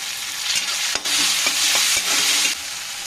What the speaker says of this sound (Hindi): प्याज को थोड़ा सा भून लेंगे लाइट ब्राउन होने के।